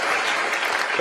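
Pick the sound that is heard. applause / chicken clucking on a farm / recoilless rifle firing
applause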